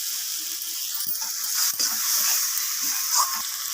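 Garlic paste and spices frying in a pan for chicken curry, giving a steady soft sizzle and hiss with a few faint stirring clicks.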